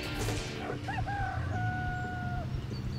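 Chickens crow and cluck in the Burnout Paradise Remastered racing game, one rooster call rising then holding a long steady note over a dense, loud bed of game engine and traffic rumble.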